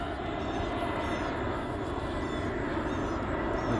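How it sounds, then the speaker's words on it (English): A large airplane passes overhead on a forest walk, a steady broadband engine roar that stays loud and constant throughout, with no talk. "That's the big boy airplane. It's monstrous."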